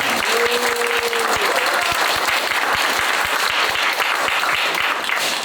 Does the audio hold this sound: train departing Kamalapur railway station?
no